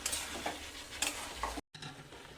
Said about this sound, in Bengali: যতক্ষণ না এঁচড় আর আলু খুব ভালোভাবে সিদ্ধ হয়, এরকম নাড়তে থাকবো।